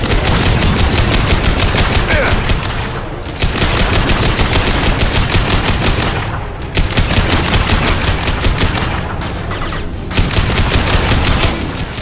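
Sustained automatic weapon fire from the video game Mass Effect 2 roars loud and continuous in long rapid bursts, broken by a few short pauses, with a voice faintly present underneath.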